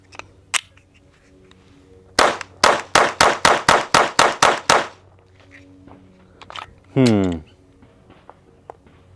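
A SIG Sauer P322 .22 pistol fires a rapid string of about eleven sharp, evenly spaced cracks. Scattered clicks and handling noise come before and after the shots, and a short low rumbling sound follows near the end.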